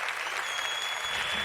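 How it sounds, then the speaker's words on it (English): A studio audience keeps up brief, even applause, a dense wash of clapping at moderate volume with no talking over it. "I'll keep the applause going"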